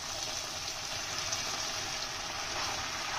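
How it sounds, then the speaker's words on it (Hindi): Hot water poured steadily into a pot of Sindhi arbi (taro root) curry, a continuous even gushing splash at close range with no talk over it. "और ये इसमें आपको है ना गर्म पानी शामिल करना है।"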